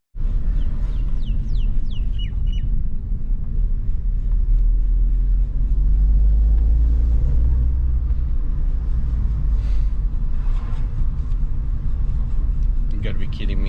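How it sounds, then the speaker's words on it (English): MK5 VW Golf Twincharger with a faulty high-pressure fuel pump, back on the road after sitting for weeks: a continuous low engine rumble and road drone under the drive, with voices at times. "let's go for a drive"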